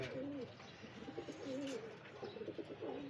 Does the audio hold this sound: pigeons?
yes